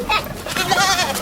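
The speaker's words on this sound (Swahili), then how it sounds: "wafugaji wamepanga foleni na mifugo yao wakisubiri kunywa maji" Livestock goats bleat while queuing with herders to drink at a watering point in Marsabit, Kenya, letting out a brief, close, wavering call.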